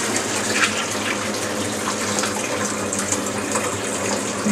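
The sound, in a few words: water slowly poured over grain to rinse sugars, partial mash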